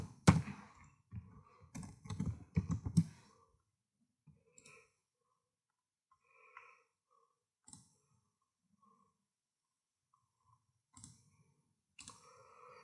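Keys clack on a computer keyboard as an email subject line is typed, starting with a quick burst of faint, close clicks and then thinning to a few scattered taps with long quiet gaps between them.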